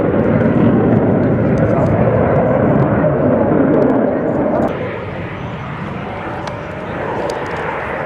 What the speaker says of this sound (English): while he is doing rolls, you can realize the front part of the aircraft going down